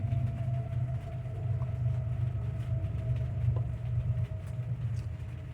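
A steady low rumble with a faint sustained whine, like a train rolling past at a distance, constant throughout with no voices.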